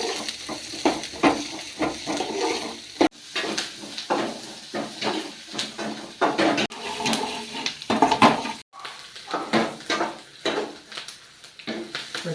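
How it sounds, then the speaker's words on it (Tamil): Chopped onions go into hot oil with spluttering cumin seeds, giving a crackling sizzle broken by repeated scraping and stirring knocks from a utensil in the pan. "நல்லா சீரகம் பொரிஞ்சிச்சா, வெங்காயத்தை போடணும்."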